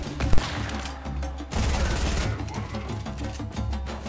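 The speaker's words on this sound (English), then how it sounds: "Who are they shooting at?" Fortnite gunfire, a sharp single crack early on followed by sustained rumbling bursts of shooting that carry through most of the moment, fairly loud and dense, with no talking.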